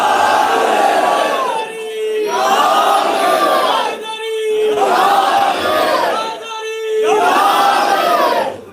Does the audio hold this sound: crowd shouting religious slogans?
yes